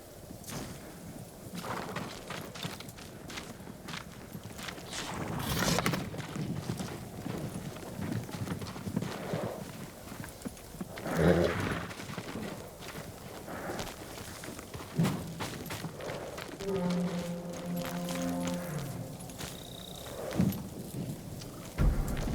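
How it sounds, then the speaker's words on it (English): Horse hooves clip-clop steadily at a walking pace over a long stretch in the video game Ghost of Tsushima, mixed with soft ambient noise and occasional tonal chimes, no speech. "They're samurai horses."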